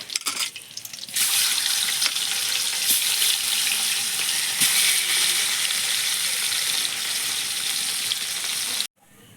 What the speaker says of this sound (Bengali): কই মাছ আর মিঙ্গেল মাছটা আমি হালকা করে ভেজে নিচ্ছি